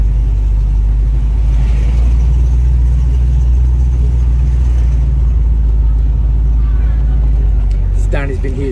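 A 1932 Ford Phaeton convertible cruises slowly with a deep, steady engine rumble and wind noise that fill the whole stretch, while people talk over it.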